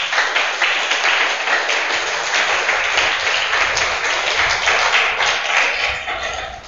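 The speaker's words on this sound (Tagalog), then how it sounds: "Palakpak sa Panginoon." A church congregation claps steadily in praise, a dense, sustained wash of many hands at even loudness that carries on without a break before tailing off slightly at the end.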